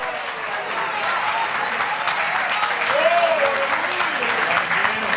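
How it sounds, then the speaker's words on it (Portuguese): A church congregation applauding in a steady, dense wash of clapping that swells slightly toward the end, with a voice briefly audible above it. "Levante a mão, aplauda mais forte"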